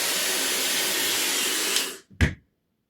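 A Dreame Hair Glory hair dryer blows with a loud, steady airy rush for about two seconds, then cuts off abruptly, followed by a brief click and a short final puff.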